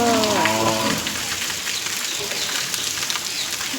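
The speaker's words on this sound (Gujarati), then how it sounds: "આજ તો વરસાદ ચાલુ થઈ ગયો" Rain falls steadily over a village, a continuous broadband hiss of drops on surfaces; a brief voice is heard right at the start before the rain carries on alone.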